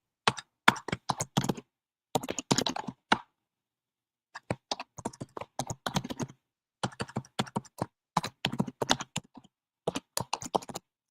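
Bursts of computer keyboard typing filling in a sign-up form, close and crisp, with a short pause after the first few seconds before the keystrokes resume in quick runs.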